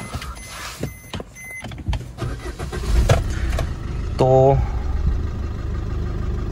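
Diesel car with keyless entry and a push-button start cranks and fires up, settling into a steady idle. Someone talks over it, and a brief electronic chime sounds near the start.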